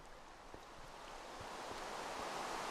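Steady broadband hiss of video game rainfall, rising slightly in loudness, with a few faint soft taps and no voices.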